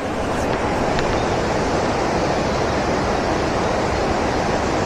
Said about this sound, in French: Petite cascade. Fabriquée par l'homme.